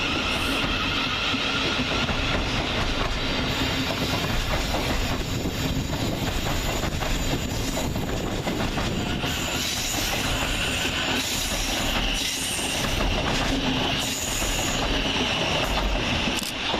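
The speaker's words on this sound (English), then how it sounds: "Next train out is 700 120, working the 1613 Govia Thameslink service from Horsham to Peterborough via London" A Class 700 Govia Thameslink train runs through Three Bridges station with a continuous loud rumble of rolling wheels, rattling and metallic squeals and clicks over the rails, sustained for the whole stretch.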